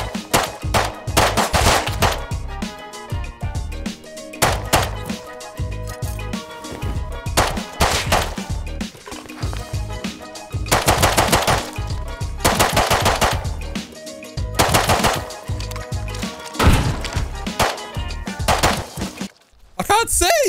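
Heavy automatic gunfire from guns in the survival game Rust, loud rapid bursts and single shots repeating through most of the stretch, with short gaps between volleys.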